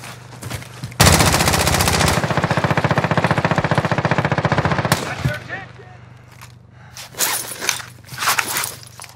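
Sustained automatic gunfire rattles loudly in a Call of Duty: Modern Warfare match, a dense burst lasting several seconds before breaking into scattered shots and other game noise.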